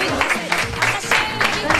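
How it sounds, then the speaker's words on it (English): An audience at a student debate on English as a first language applauds in a short burst. The clapping comes in rapid uneven waves, and a voice can be heard mixed in. "Clap hand for him."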